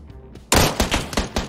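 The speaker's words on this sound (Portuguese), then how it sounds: "Pistolinha tem 4 tiros" Pistol shots ring out in PUBG, a quick series of four or five loud, sharp cracks at roughly even spacing after a brief quiet lead-in.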